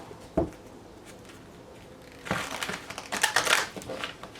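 Tarot cards being shuffled close up, a brief flick followed by a longer papery riffle and rustle that crackles for a couple of seconds.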